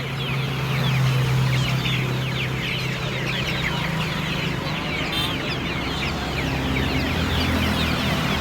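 Country chickens cluck and chatter steadily on a roadside vendor's cart, a dense flock close by over constant outdoor noise.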